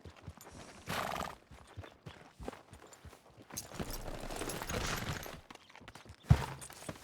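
A horse whinnies and its hooves clop around a stable in Red Dead Redemption 2, with shuffling steps, snorts and a sharp thud near the end amid busy game ambience.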